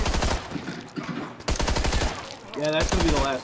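Rapid gunfire from an AR-15 rifle and a pistol in the zombie shooter Contagion: dense, loud automatic volleys, then a brief pause and more close bursts with metallic ringing.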